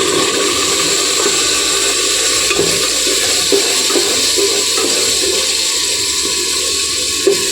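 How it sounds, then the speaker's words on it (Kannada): Sprouted-bean curry sizzles steadily in a pan as tomato puree goes in, a continuous frying hiss with faint stirring scrapes and no talk. "ನಾನು ಟೊಮೆಟೊ ಪ್ಯೂರಿ ಹಾಕೊತಾ ಇದ್ದೀನಿ"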